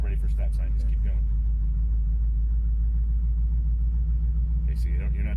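A Chevrolet Nova with a manual transmission rolls along on barely any gas, its engine a steady low rumble heard from inside the car, with people talking over it.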